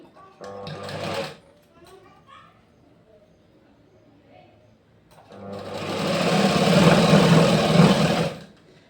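A sewing machine stitches a blouse seam, running in a short whirring burst and then a longer steady run, with faint talking in the quiet gap between.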